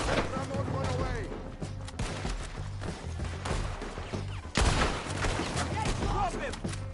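Heavy gunfire and booming blasts in Red Dead Redemption 2, with repeated sharp shots, a loud impact near the middle and dense battle noise throughout, while people shout and talk over it.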